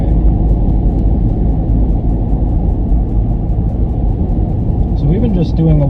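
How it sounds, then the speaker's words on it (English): 2021 Ford Bronco Big Bend with a soft top driving on a road, a loud steady low rumble of engine and road noise inside the cabin, no talking. "let's take it for a little bit longer of a drive and get it out on the highway"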